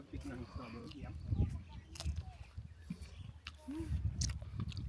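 Someone bites into freshly picked crunchy strawberries at a camp in Atok, Benguet, with soft crunching and chewing close to the mic, while people talk quietly nearby.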